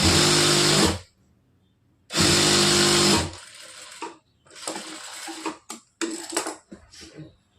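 A sewing machine stitches a blouse in two loud sustained runs separated by a pause, followed by shorter choppy bursts and clicks of stopping and restarting.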